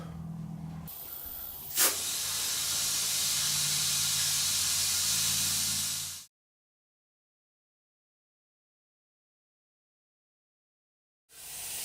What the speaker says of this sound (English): Getting the tire inflated.